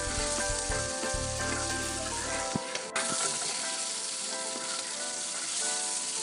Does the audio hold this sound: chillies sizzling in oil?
yes